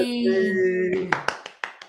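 A voice speaks, then a golf clap follows, five soft hand claps in a slow, polite rhythm.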